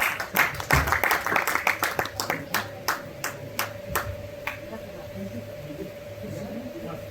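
Applause from an audience at a Buddha Jayanti lecture on higher education, starting as a dense burst of clapping that thins into scattered individual claps and fades out over several seconds.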